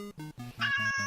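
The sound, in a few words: cat meowing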